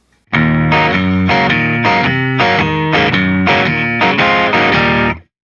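Overdriven electric guitar plays a straight, even rhythm riff with steady chord stabs for about five seconds, loud and alone.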